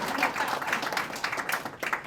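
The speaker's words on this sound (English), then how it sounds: "We can clap for her as well." Steady applause from a crowd, a dense patter of many hands clapping together at moderate volume, continuous throughout.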